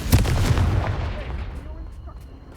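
A Confringo explosive spell going off in the video game Hogwarts Legacy, one loud booming blast right at the start that rumbles and fades away over about two seconds.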